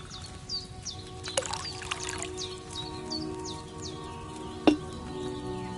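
Wine poured from a pitcher into a cauldron in the video game Kingdom Come 2, a soft liquid pour with a small clunk near the end, over quiet ambient background and faint bird-like chirps.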